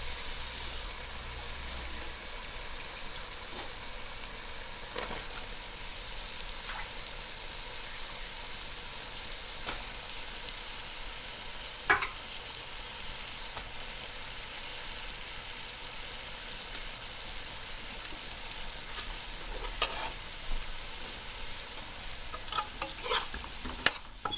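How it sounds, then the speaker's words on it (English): Breadfruit pieces frying in a pot of oil for a shrimp curry, a soft steady sizzle and hiss with occasional spoon clinks and stirring knocks, growing busier near the end. "So now I add in the Katahar because this is well fried down already."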